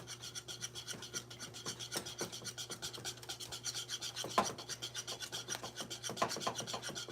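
A whisk stirs powdered sugar into a sweet candy mixture in a bowl, making faint, quick, rhythmic scraping strokes that run on continuously with a few louder knocks and no talking.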